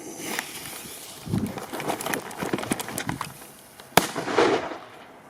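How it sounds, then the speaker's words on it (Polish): A Piromax RC5 firecracker, a larger-size banger, goes off in a stone quarry with one sharp loud bang near the end, amid scattered crackling pops and outdoor rustle. "RC5 od Piromaxa. No tak, to już jest petardka większa rozmiarowo."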